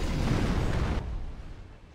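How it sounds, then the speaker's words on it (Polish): Firecrackers burst in the video game Sekiro, a loud crackling blast that fills the first second and then fades into a dull decaying rumble. "Oto już właśnie petardy."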